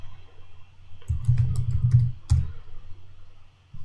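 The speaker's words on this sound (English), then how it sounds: "So whenever I type something on the right" Typing on a computer keyboard: a loose burst of light, irregular key clicks over a steady low electrical hum, close by and fairly quiet, then easing off.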